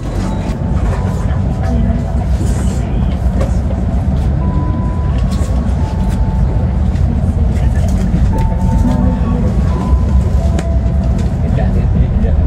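Inside the Banyu Biru passenger train between Yogyakarta and Semarang, a constant low rumble of wheels and carriage noise fills the cabin, loud and unbroken, with people talking over it.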